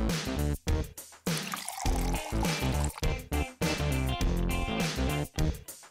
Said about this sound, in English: Mix acrylic paints with water in a spray bottle.